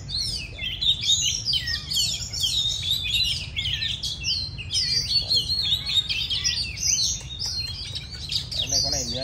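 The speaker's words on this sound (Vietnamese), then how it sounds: "Đây được cái buổi đông chim này" Many caged songbirds chirp and sing together in a busy, overlapping chorus of bright, rapid trills and tweets, steady and moderately close, with a low rumbling background underneath.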